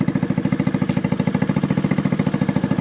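A Honda Navi motorbike fitted with a Vance & Hines performance exhaust idles close by, giving a loud, steady, rapid chugging pulse throughout.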